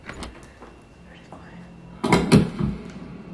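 A door opens with a loud creak and thud in the horror video game At Dead of Night, with footsteps and faint game sounds before it and a player's voice heard nearby.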